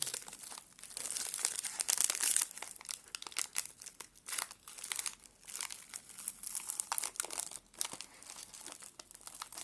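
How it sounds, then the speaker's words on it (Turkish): Crinkly plastic wrapper of a sugar-free hazelnut-cream Ülker wafer being torn open and handled, a close, continuous crackling and rustling with a louder tearing burst early on, no voices. "Hadi bakalım tadı nasılmış. Paketi açalım."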